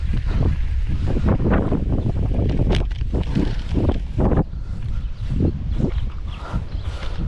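Strong wind while bass jig fishing on the water, loud continuous gusts battering the microphone in uneven surges, with a faint wash of water beneath and no talking.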